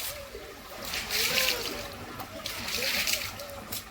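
Water runs and splashes as a bucket is filled, with sloshing and trickling that swells and eases in waves, close by, while someone talks over it.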